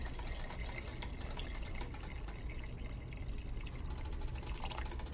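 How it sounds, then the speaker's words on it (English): Continuous rushing water pouring into a pot of black-eyed peas and sausage, steady and close, with a faint splashing texture throughout and no talking. "I'm going to add enough water just to cover everything."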